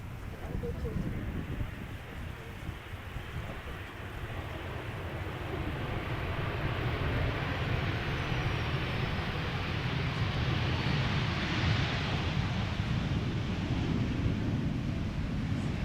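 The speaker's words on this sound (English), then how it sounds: "This is Transavia flight 6116. It is arriving from Malaga. It is a 737-800." A Transavia Boeing 737-800 airliner arriving at Amsterdam Schiphol from Malaga gives a steady, broad jet roar that builds gradually and holds loud and close, mixed with wind buffeting on the microphone.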